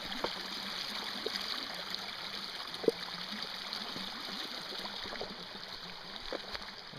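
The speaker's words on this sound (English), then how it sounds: "the water's low, but at least it's flowing" Creek water flowing past a small dam during low water, a steady close rushing and trickling hiss that runs continuously, with one faint knock partway through.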